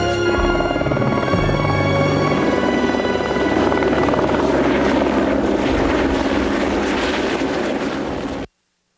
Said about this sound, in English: every morning a fleet of helicopters transports 60 crew and 20 tons of equipment high